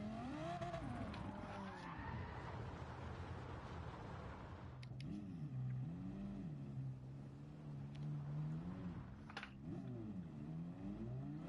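A car sliding with all driving assists off in Gran Turismo 7, steady engine drone with pitch swooping up and down as the tyres slip and skid, a few sharp clicks partway through.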